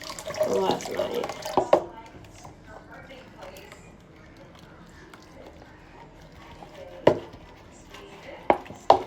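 Dishes being washed under a running kitchen tap: soft, steady water flow with intermittent clinks and knocks of crockery, louder at the start, while people talk nearby.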